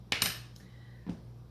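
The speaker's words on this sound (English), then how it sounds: "Scrape it out with our lovely little" A small spatula works molasses out of a container. It gives a quick pair of bright metallic clinks, a pause, then one softer knock, close by in a quiet kitchen.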